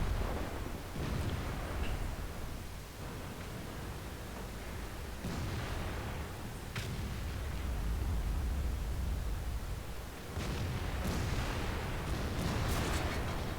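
Artillery guns fire in World of Tanks with broad booming blasts over a constant noisy rumble, several heavy shots spaced irregularly through the battle.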